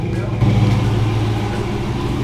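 A Jeep engine idles steadily with a low, even rumble while being checked for exhaust leaks, with people talking faintly over it.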